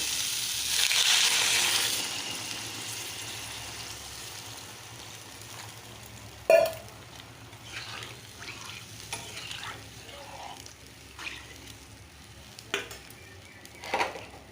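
Water poured into a pan of sautéed spices for an aloo-begun khoka ilish curry hisses in a loud, broad sizzle at the start, then fades into quieter scraping and occasional clanks of stirring.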